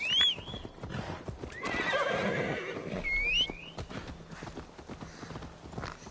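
Rhythmic clip-clop of horse hooves in the video game Assassin's Creed Valhalla, with a couple of whinnies, one at the start and another midway, moderately loud.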